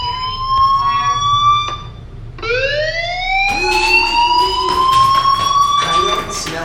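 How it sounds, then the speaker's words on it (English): A loud, continuous wailing fire alarm siren in a school in the video game Life Is Strange, with rising tones sweeping over and over, close and insistent. "Hey, do you hear that fire alarm? That means you should be outside."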